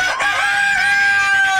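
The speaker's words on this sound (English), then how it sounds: "That's right, we're talking chickens." Backyard chickens cluck while a rooster lets out a loud, close, sustained crow, the bright call filling the whole short stretch.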